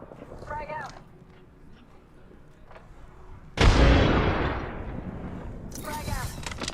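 Loud video game grenade blast tearing through at mid-clip with a long decaying rumble, amid scattered gunfire; a player's voice talks briefly before and after, with other game sounds throughout.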